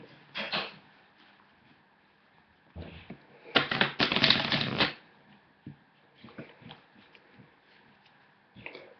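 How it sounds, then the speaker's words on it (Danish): Someone shuffles a deck of playing cards at a magic show, producing several short riffling bursts with one longer, louder flurry in the middle and light card handling noises between them. "Jeg blander lige bunken en gang."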